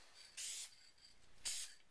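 Two brief, close hisses from an aerosol can misting a light coat over an Xbox 360 controller, separated by a short pause, with no talking.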